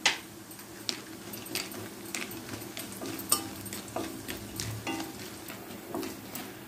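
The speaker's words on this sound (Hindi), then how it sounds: "कढ़ाई में मस्टर्ड ऑयल गरम कर लिया, अभी इसमें बड़ी को फ्राई करूंगी।" Sun-dried lentil dumplings (bori) fry in hot mustard oil in a kadai. A faint, steady sizzle runs under scattered soft ticks and scrapes of stirring, with a couple of sharper clinks.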